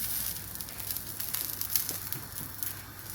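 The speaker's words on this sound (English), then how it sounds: "And as you can hear, a nice little sizzle there." Oil-coated vegetables sizzle on a hot griddle, a faint, steady crackling hiss with occasional small pops, heard alone.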